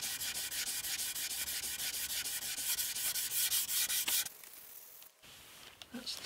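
Hand sanding a small wooden coffee table finished with superglue (CA glue), using 1500 grit paper: a fast, steady, rhythmic rasp of back-and-forth strokes, close and loud, that stops abruptly and leaves a few faint knocks.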